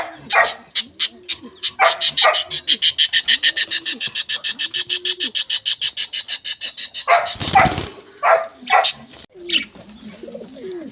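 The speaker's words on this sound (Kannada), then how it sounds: "ಒಂದು ಡಾಗ್ ಕೂಡ ಇದೆ, ಇಲ್ಲೊಂದಿದೆ ನೋಡಿ" A dog barks in fast repeated bursts amid steady cooing of pigeons, with a brief loud thump and more scattered barks afterward.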